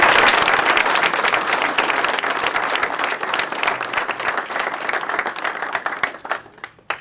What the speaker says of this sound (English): One more round of applause for head coach Eric Lang.